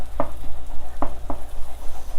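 Flour is stirred into a hot boiling dough for cream puffs. A spoon knocks against the pot in a few distinct thuds, with a low steady rumble and soft bubbling beneath, close and fairly loud.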